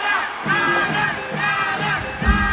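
A large concert crowd at a show chants a singer's name in a rhythmic, repeated roar, loud and sustained with rising pulses of cheering.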